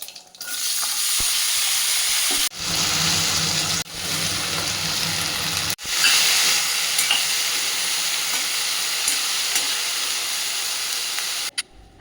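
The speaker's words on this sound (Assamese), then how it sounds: "লগতে ভেন্দিও দিম, এনেকৈয়ে ভাজিম" Potatoes and okra fry in oil in a wok, a loud continuous sizzle broken by several sharp clunks and stirring scrapes, the hiss swelling again after each one.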